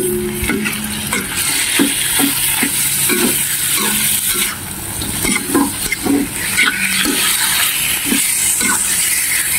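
A dish with dark soy sauce, oyster sauce and white pepper is stirred and fried in a pan: continuous close sizzling hiss with repeated scraping and clacking of the utensil, loud and steady throughout.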